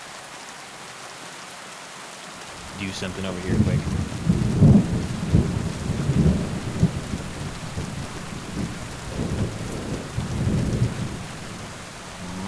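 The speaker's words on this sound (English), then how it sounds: "Oh, the storm." Steady rain and rolling thunder from a storm in the video game Kingdom Come: Deliverance 2, with low rumbles swelling and fading over a constant hiss of rainfall. A faint voice speaks briefly beneath it.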